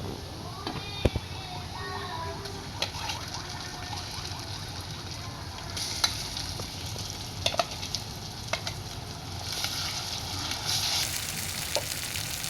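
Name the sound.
ginger, garlic and chili paste frying with onions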